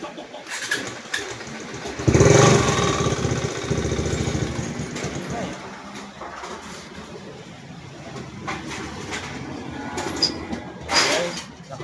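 Kawasaki NS150 motorcycle with an open pipe exhaust and an engine knock from a missed oil change, revving up loudly then settling to a rough idle, with birds and a few voices in the background.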